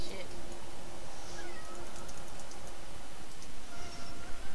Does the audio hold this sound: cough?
no